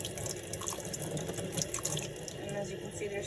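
Shrimp for aguachiles rinsed under a running kitchen tap, giving a steady close splash of flowing water into a sink that continues unbroken for a few seconds.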